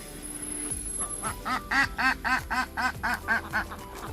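A duck quacks repeatedly in a quick, even run of about a dozen loud, nasal calls close by, over faint background noise.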